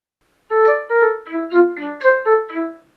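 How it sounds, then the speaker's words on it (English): A synthetic flute plays a short melody of about eight notes, clean and close, with a brief pause near the start and nothing underneath. "if we hear just the flute line on its own"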